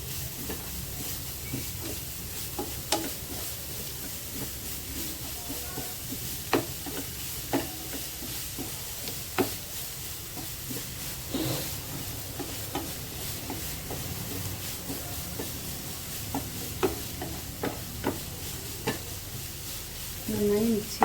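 Chopped snake gourd is stirred in a hot pan for a Kerala-style coconut stir fry, a low continuous sizzle with repeated scraping and tapping of a spoon against the pan at uneven intervals, close.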